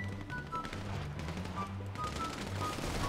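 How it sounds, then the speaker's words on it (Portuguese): Rapid bursts of GTA 5 gunfire crackle and pop at a moderate distance, with a low synthetic drone underneath and no talking. "Parou, tiro pelo Duke"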